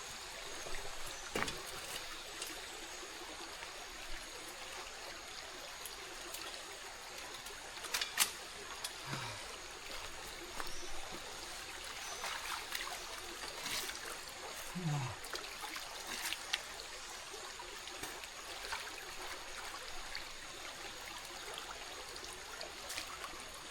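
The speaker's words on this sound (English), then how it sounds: "Finally, some nice, really good drinking water." Fresh drinking water trickles and flows in a small stream along a hiking trail, a faint continuous babble with occasional brief splashes and clicks, heard alone at low volume.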